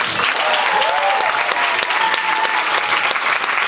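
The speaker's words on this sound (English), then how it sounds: "Give him another applause." An award ceremony crowd at a Stockholm film festival gives a short, loud burst of applause, dense clapping throughout with a faint tonal sound underneath.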